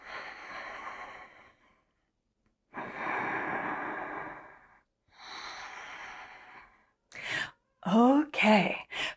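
Slow, audible breaths during a grounding yoga practice: three long, airy inhale-exhale sounds, each lasting about two seconds and separated by short pauses. A brief voice follows near the end.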